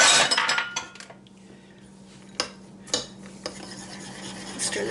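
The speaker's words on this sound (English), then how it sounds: "We'll give this a good stir." A spoon stirs a chestnut and bread stuffing mixture with herbs in a bowl, giving a burst of scraping and clinking, then a lull and a few separate knocks and scrapes, close by.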